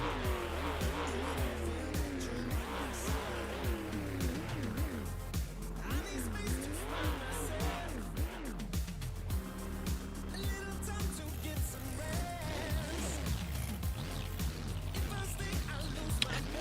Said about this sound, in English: We have Brandon Adam entering Angel Stadium in his Fireworks Trophy truck, just waiting on his opponent, Chadwick Deerfoot